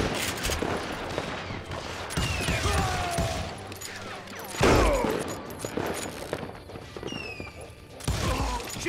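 Revolver gunfire in a video game, several sharp shots spread unevenly across the stretch, with one heavy blast near the middle, set against a busy backdrop of game effects and movement.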